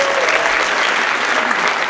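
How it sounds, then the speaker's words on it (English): Audience applause fills a school winter concert hall at Farmingdale High School, a dense steady wash of clapping that holds at an even level for about two seconds. "could you give them a round of applause too?"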